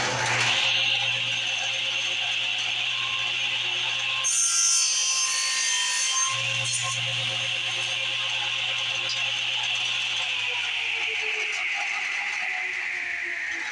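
A Ridgid TS3650 table saw rips through pine with a steady whirring motor, as wood rubs and grinds against the blade under it, a brief dip in the middle, then the tone winds down.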